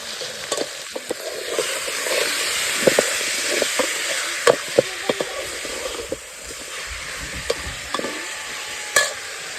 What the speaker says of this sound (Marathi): आपला कांदा तळला